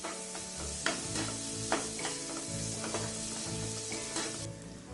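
Shallots and ginger garlic paste frying in hot oil in a pan, a close, steady sizzle punctuated by several sharp stirring scrapes and clacks, with a faint low hum underneath.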